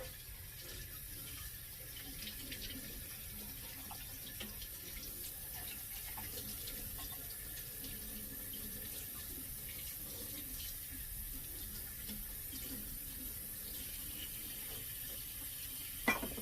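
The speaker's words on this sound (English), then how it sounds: "And then just rinse this." Running tap water pours steadily into a sink while an AICOK juicer part is rinsed under it, a constant close hiss of flow that ends in a brief sharp knock.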